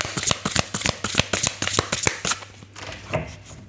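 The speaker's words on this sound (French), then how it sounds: "Désolée pour les mélanges de cartes." Oracle cards shuffled up close: a quick, regular run of crisp card slaps at about four per second, loosening into softer, scattered rustles near the end, with no voices.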